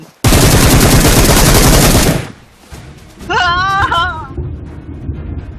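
A long, loud burst of continuous automatic gunfire in PUBG Mobile, followed by quieter game sounds and a wavering, bleat-like voice.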